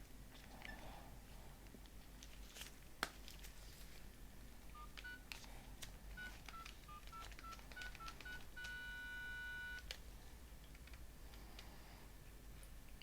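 Keypad tones from pressing the buttons of a Nokia 9300 phone, a run of short beeps at irregular intervals ending in one longer tone, faint over low background hiss with a few clicks.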